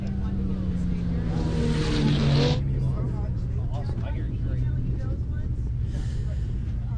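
Stock class off-road race vehicles battle through a heat race at the 2018 MetalCloak Stampede, engines droning loud and steady with pitch sliding down as they pass. A commentator talks over the racing noise throughout.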